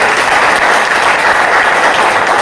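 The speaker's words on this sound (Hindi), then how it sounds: "मैं चाहता हूँ एक बार हमारे संस्था IMC के लिए जोरदार तालियां होनी चाहिए।" Loud, dense applause from an audience at an IMC company gathering in Jaunpur, a continuous roar of clapping hands that stays full and even throughout.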